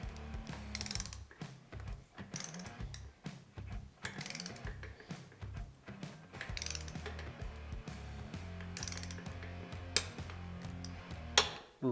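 A torque wrench ratchets while tightening the cylinder bolts on a Harley XL fitted with an S&S Cycle 1200 conversion kit. Repeated quick bursts of close mechanical clicking are heard over a busy steady background.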